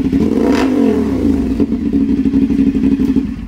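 A CF Moto 450 SR motorcycle engine runs close by, a steady low throb with a rev swell early on and then an even, pulsing idle rhythm, with no talk over it.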